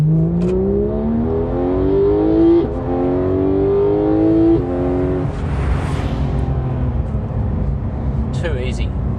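A Porsche 911 GT3 (991.2) accelerates uphill in top gear from low revs, its engine tone climbing steadily and loudly with brief dips, then fading into road and wind noise.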